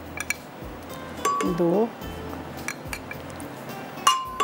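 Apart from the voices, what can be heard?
tablespoon clinking against bowl while adding gram flour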